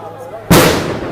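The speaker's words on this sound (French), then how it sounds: "Et des grenades de gaz, simplement." A tear gas grenade goes off at a street protest with one loud close blast, then a long hissing, crackling rush of gas that fades slowly after a quiet moment.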